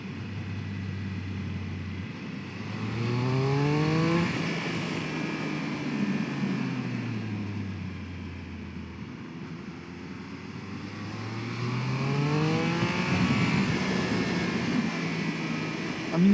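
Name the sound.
Triumph Speed Triple 1200 RS motorcycle exhaust accelerating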